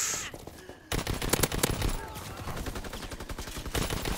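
Rapid bursts of gunfire from a World War II–era shooter video game, Call of Duty WW2, dense overlapping shots and automatic fire crackling continuously after a brief quiet opening, loud and busy throughout.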